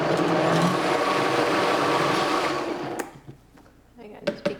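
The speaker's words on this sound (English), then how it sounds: "I'll just blend this up just to mix," A blender whirs loudly and steadily for about three seconds while mixing a hot plant-based cheese sauce for macaroni and cheese, then cuts off, leaving quieter clinks and brief handling sounds.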